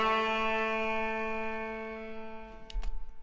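A recorded saxophone holds a single sustained note that slowly fades, followed by a couple of brief clicks and a low thump near the end, close and fairly quiet, with no talking.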